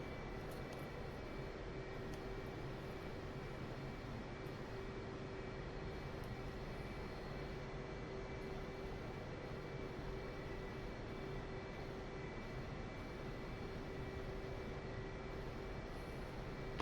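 A jet engine on a Blue Angels aircraft taxiing during airshow practice in the DCS World flight simulator, a steady, fairly quiet roar with a constant whine that holds level for the whole stretch.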